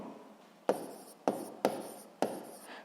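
Physics exercise notes are written by hand, heard as four distinct close scratching pen strokes with short pauses between them, quiet and alone.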